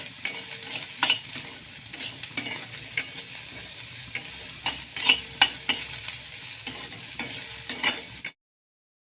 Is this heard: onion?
yes